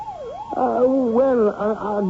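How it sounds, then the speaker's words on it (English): Police car siren in an old-time radio mystery drama, its wailing tone sweeping up and down and growing louder as it approaches, one long continuous cycle filling the whole stretch. "There's a police car, I should imagine. Seems to be coming this way."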